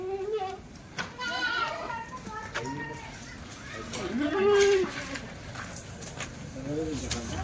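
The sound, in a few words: goats bleating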